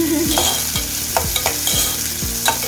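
Onions and curry leaves sizzle steadily in hot oil, with a spoon or spatula scraping and tapping the pan in a regular stirring rhythm, close by and fairly loud.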